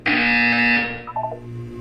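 A single loud, harsh buzzer blares in the Portal 2 video game, then tails off into a few shorter warbling tones.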